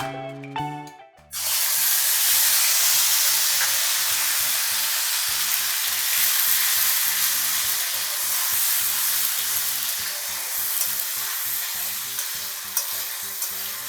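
Tomato paste hits hot oil with black cumin in a pan, erupting into a loud, sustained sizzle and hiss that settles into steady frying, alone with no voices.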